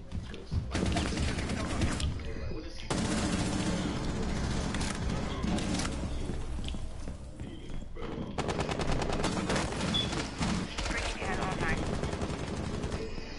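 Call of Duty style game gunfire rattles in long, dense automatic bursts close and loud, broken by brief pauses, with some shouting voices mixed in.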